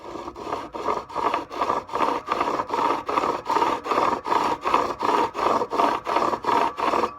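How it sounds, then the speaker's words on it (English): A knife sharpener grinding back and forth across the wooden surface of a cigar box guitar, a steady rhythmic rasping of about two strokes per second, close and clear, with no voices. "I'm just laying it flat right in the area that I want to grind it down. I'm just going to go back and forth slightly."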